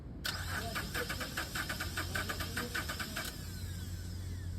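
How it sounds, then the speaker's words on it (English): Car engine being cranked by its starter motor during a starter voltage-drop test, giving a rapid rhythmic whirring chug of about a dozen pulses over roughly three seconds that stops without catching, under a steady low hum. "We're going to crank the car."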